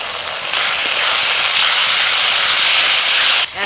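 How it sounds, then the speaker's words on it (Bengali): Ginger, garlic and green chilli paste hits a hot pan after fried onions, bursting into a loud, dense, continuous hiss that holds steady for several seconds before dropping off abruptly near the end. "দিয়ে দিচ্ছি আদা, রসুন, কাঁচা লঙ্কা বাটা"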